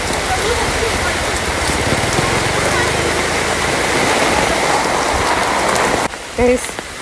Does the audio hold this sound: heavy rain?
yes